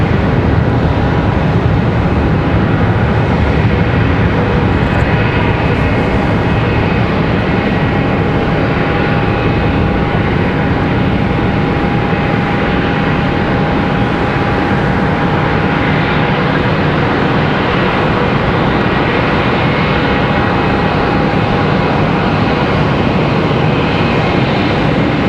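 A Spirit Airlines jet arriving at Charlotte Douglas International from Newark, heard as a loud, steady broadband roar that holds evenly throughout with no breaks or talk.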